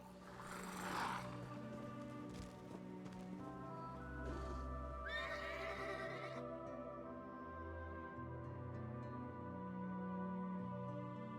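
A horse in the video game Elder Scrolls Online whinnies loudly at the start, followed by snorts and fainter neighs over a droning game soundtrack, with no speech.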